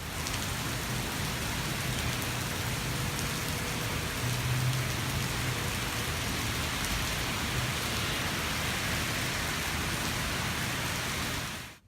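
Steady rain falls in little dribbles outdoors, a dense, even hiss of drops on surfaces that holds close and constant before fading out at the very end.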